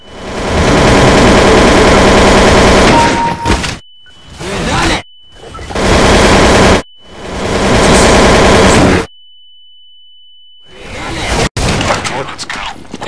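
Bursts of automatic gunfire in Counter-Strike: Source, loud sustained rattling volleys broken by sharp silences, with a steady electronic tone under some of the gaps and a single sharp crack near the end.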